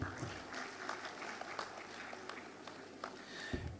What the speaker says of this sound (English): A round of applause for NIDA.